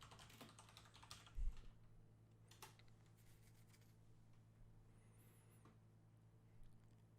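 Keys tapped on a computer keyboard while a search is typed, a soft irregular patter of keystrokes that starts densely and thins into scattered clicks, with one louder knock near the start, against a quiet room hum.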